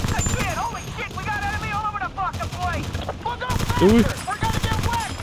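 Gunfire in Battlefield: Bad Company 2, repeated shots and bursts close by, mixed under people talking throughout.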